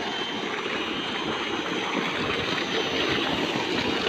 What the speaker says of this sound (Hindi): ये पानी का प्रेशर है भाई जान,